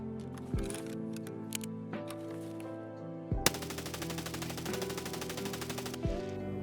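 A G36 rifle firing full-auto in Escape From Tarkov, with a long, dense, rapid burst of gunfire of about three seconds, close and loud, set against a steady droning background of tones and short clicks.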